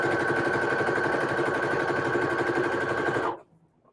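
A sewing machine stitches a pillowcase with a loud, fast, even whir, then stops abruptly near the end.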